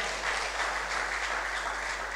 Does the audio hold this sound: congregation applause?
yes